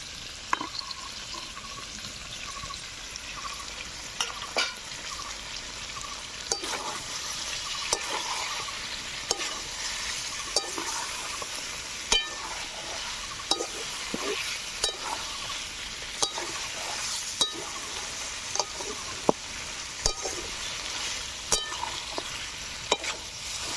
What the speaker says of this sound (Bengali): এখন ভেজে রাখা আলু দিয়ে আরো 10 মিনিট মতো কষে নিচ্ছি।